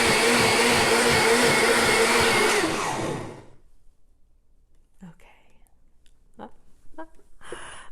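A blender whirls a fruit smoothie made with lime yogurt: a loud, close motor roar for about three seconds, then it cuts off, leaving quiet breaths and soft sounds.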